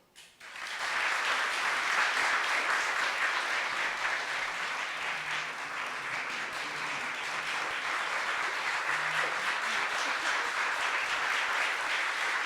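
A sustained, dense round of audience applause welcoming Reverend Naomi Tutu to the stage, swelling in after a brief pause and holding steady and loud throughout.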